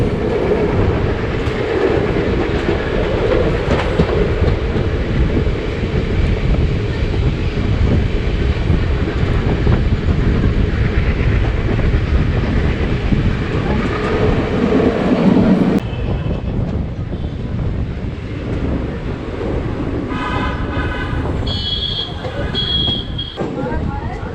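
A diesel locomotive-hauled express from Mysore to Kacheguda rolls steadily through Bangalore toward the cantonment station, a loud continuous rumble with rhythmic clatter of wheels on rails throughout, easing slightly in the final seconds as faint higher tones appear.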